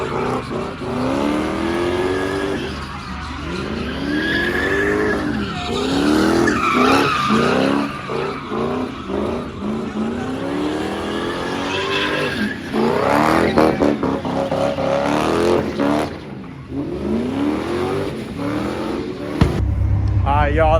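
Loud tire squeal and skidding from a blown-tire burnout by an LS-powered car at a San Jose car meet, with sustained engine revving and wavering squeals throughout, and crowd voices shouting underneath.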